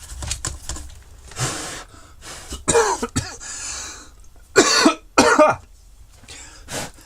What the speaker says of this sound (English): I don't know why when I'm exhaling it's making me cough